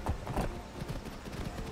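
Horse hooves clip-clopping in the Skyrim Wildlander video game as the horse follows the player, a steady run of close, muffled hoofbeats over a rumbling game backdrop, with no talking.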